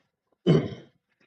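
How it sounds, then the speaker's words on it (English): A single short, raspy cough from someone with a sore throat, close and fairly loud, surrounded by near silence. "Sorry if I coughed a bit."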